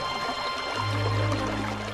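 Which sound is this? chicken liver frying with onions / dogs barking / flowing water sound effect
flowing water sound effect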